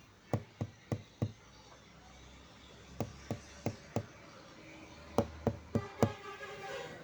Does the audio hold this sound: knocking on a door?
yes